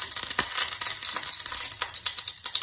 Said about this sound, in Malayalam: ഞാനൊരു പാൻ അടുപ്പിൽ വെച്ച് ഇതിലേക്ക് ഒരു സ്പൂൺ നെയ്യ് അല്ലെങ്കിൽ ഒരു സ്പൂൺ ബട്ടർ ആയാലും മതി ഒഴിച്ചെടുക്കാം